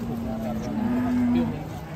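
A large European-breed cow moos in one long, steady, sustained call, close and loud, over a busy background of crowd noise with people talking nearby.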